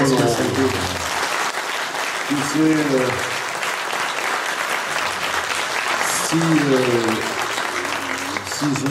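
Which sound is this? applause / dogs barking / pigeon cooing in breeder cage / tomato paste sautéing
applause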